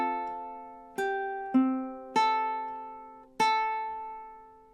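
Ukulele playing bar 17 of a song: four plucked chords in an unhurried rhythm, each ringing clearly and decaying before the next, close and alone with no voices.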